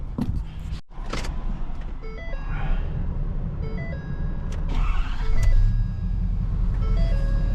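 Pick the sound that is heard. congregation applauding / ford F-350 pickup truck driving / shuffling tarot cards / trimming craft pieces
ford F-350 pickup truck driving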